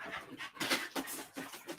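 Pet dogs panting close by in quick rhythmic breaths, mixed with soft whimpers, fairly faint with no clear talk over it.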